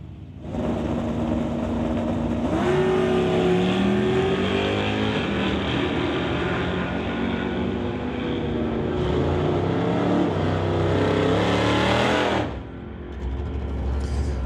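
A Chevy Nova and a Mach 1 Hustler launch at a drag strip, their engines roaring loud and steady with rising and shifting tones for about twelve seconds, then dropping away abruptly.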